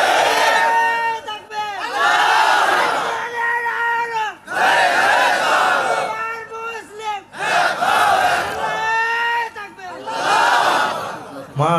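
A crowd at an Islamic waz sermon in Bangladesh shouts takbir, 'Allahu Akbar', in loud unison. About five strong chanted bursts repeat with brief pauses between them.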